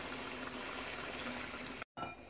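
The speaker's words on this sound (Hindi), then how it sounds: "इसमें मैं 1/2 कप पानी और शामिल कर दूंगी" Water poured into a pan of coarse minced meat (qeema) simmering with tomatoes, a steady close pouring splash that runs about two seconds, then cuts off abruptly before a quieter tail.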